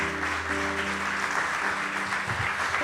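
Church congregation clapping steadily for several seconds, a dense continuous patter with a sustained instrumental tone underneath.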